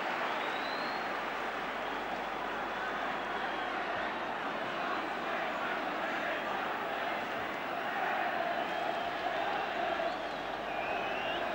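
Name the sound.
football crowd chanting champions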